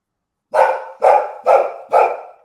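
A pet dog barks four times in a quick, even series, each bark loud and close with a short tail, heard alone against silence in a home during a sports chat.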